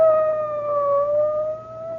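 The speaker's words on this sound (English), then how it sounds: "It's a police car. It's going that way, toward the Lansing house." A police car siren from a radio drama sound effect wails steadily, holding a sustained tone that drifts slightly in pitch, clear and alone with no voices.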